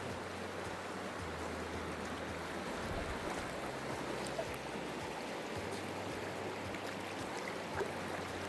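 The Charyn River in Charyn Canyon, Kazakhstan, flows with a steady, dense rushing roar that continues evenly throughout, close and constant.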